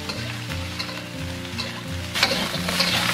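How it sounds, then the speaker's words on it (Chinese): Duck meat stir-fried in hot oil in an iron wok, a close steady sizzle with repeated scraping stirs of the spatula in an even rhythm, growing louder near the end. "铁锅烧热过后，我们再倒入食用油，接着我们把这个鸭肉给它放上去"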